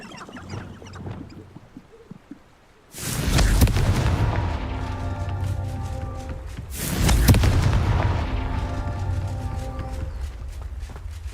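Two loud, booming fiery blasts from the Confringo spell in the Hogwarts Legacy video game, each a sudden explosion followed by a long rumbling, crackling decay, with no talking.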